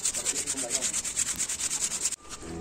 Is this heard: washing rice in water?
no